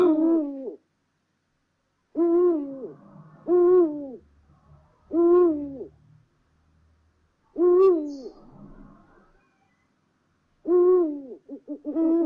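Owl hoots in a series of deep, resonant calls, each a cluster of two or three notes separated by pauses of a second or two, clear and fairly close against a quiet background with no speech.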